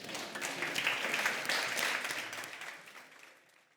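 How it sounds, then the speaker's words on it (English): Audience applause closing an online microfinance and workers buyout conference session, a steady broadband patter of many hands that holds fairly even, then thins and fades out over the last second. "Please give them a big round of applause."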